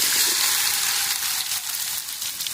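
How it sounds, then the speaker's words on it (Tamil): Potatoes fry in hot oil with a steady, bright sizzle that fills the clip, loud and close, with faint bubbling texture and no talk. "ஓகே, நல்லா ஃப்ரை ஆகுது."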